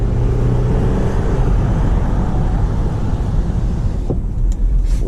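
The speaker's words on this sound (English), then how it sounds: "Spin a little tire there." A 2005 Toyota Highlander V6 Limited spins a tire, giving a loud, continuous roar of engine and tire that holds steady and then eases off briefly near the end.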